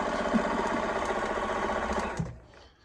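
A Bernina 1030 sewing machine runs at high speed in one smooth, continuous mechanical whir with a steady stitching rhythm, then stops abruptly near the end, close and fairly loud with no talking.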